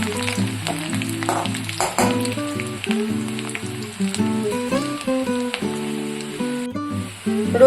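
Garlic sizzles in hot oil while cooking for a fish dish, a soft steady frying crackle running beneath louder background music.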